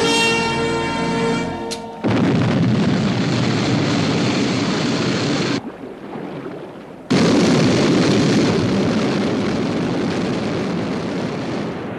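Sky One aircraft lifts off in a sci-fi scene: a rising tonal whine gives way to a loud, sustained roaring thrust, briefly dropping out before surging back strong and continuous.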